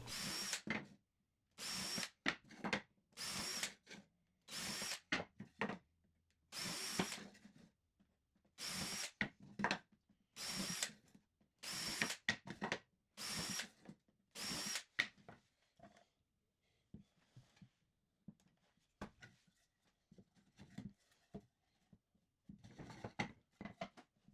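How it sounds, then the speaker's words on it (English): A power drill whirs in a series of short bursts, driving screws into 2x4 lumber, followed by quieter scraping and handling noises. "Use a countersink drill bit and glue. Screw those in place"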